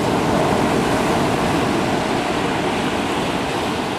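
Sea waves break and wash continuously near a beach where stilt fishermen work, a loud, steady broadband roar of surf with no voices over it.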